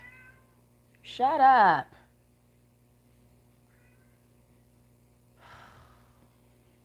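A single loud, drawn-out cat meow rises and falls for about a second, followed later by a faint second sound, with a steady low hum in the background and a few spoken words.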